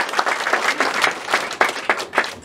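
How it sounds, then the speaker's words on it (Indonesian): An audience claps steadily through a Biogreen Science sales training seminar, a dense, lively round of applause with bursts of individual claps, heard close and with no talk over it. "Tepuk tangan."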